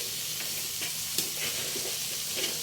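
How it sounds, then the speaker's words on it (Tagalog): Vegetables for pancit bato are sautéed and stirred in a pan, producing a steady bright sizzle broken by occasional spatula scrapes and clinks, close and continuous. "Haluin lang natin yan mga koys. Gisa-gisa lang."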